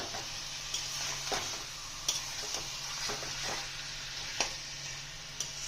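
Meat sizzling in a hot pan for kasuri methi chicken, a steady frying hiss with occasional sharp ticks and spatula scrapes, moderately quiet and close, no voices.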